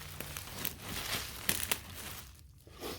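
Scissors or a blade cut into a wadded plastic bag stuffed with clothes, giving soft crinkling and tearing rustles with a couple of sharper crunches, close by and fairly quiet with no talk.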